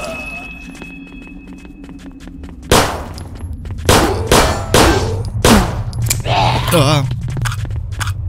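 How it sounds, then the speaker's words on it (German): A weapon clanks and scrapes through a reload in a zombie video game, a run of sharp metallic clicks and thuds heard close over a low game ambience. "Das war das Geräusch des Waffennachladens."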